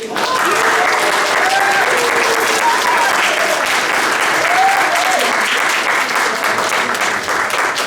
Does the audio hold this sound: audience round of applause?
yes